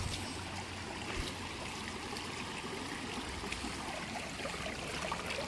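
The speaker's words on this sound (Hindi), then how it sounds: "ये देखिए दोस्तों कितना सुंदर पानी आ रहा है।" Water flows steadily over a fishing net set in a stream, a continuous close rushing and gurgling wash at even loudness, with no voices.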